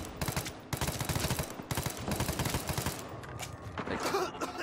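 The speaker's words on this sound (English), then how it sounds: "Like when you hear like gunfire going off in the distance." Gunfire in the online shooter Firefall: rapid bursts and sustained automatic fire popping in a steady stream with a few gaps, heard at a moderate distance and fairly loud throughout.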